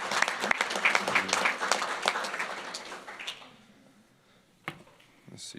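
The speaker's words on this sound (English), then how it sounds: "How about another round of applause for the Martinez family?" Audience at a parish council meeting applauding the Martinez family, a full burst of clapping that fades out after about three seconds into a quiet room with a few stray sounds.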